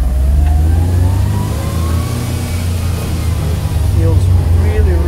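A 2016 Oreion Reeper Sport 4x4 runs close by with a steady, loud engine drone that rises and eases as it is shifted into first gear, with no break in the sound.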